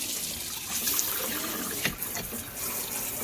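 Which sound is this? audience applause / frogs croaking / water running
water running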